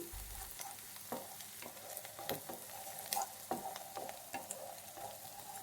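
Onions frying in a pan for a taro-leaf curry, a steady faint sizzle with occasional light stirring clicks, close and without voices.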